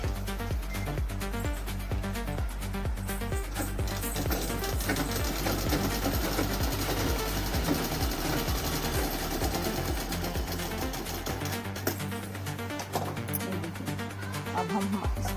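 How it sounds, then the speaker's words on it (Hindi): Sewing machine running steadily while stitching an unfolded seam on a coat suit, a dense continuous motor whir with rapid needle chatter that holds loud and close throughout, without a break. "इसको हम ऐसे एक सिलाई लगाएंगे, यानी कि बिना फोल्ड किए"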